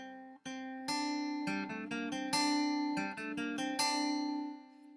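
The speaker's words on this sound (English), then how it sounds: "So you remember that the minor scale starts like this." A plucked guitar plays the start of a minor scale, a short run of single notes, each ringing clearly, climbing step by step before the last note fades out.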